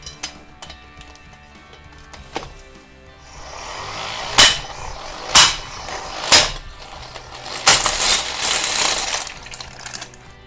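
An electric impact wrench hums and then hammers in four sharp bursts, followed by a longer rattling burst; no one speaks.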